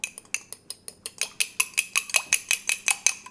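A cracked egg whisked briskly with a fork or whisk in a bowl for cinnamon roll dough, a rapid, steady run of about fifteen bright metallic clicks, close and alone.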